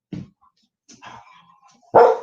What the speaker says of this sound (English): Cora, my puppy wants attention right now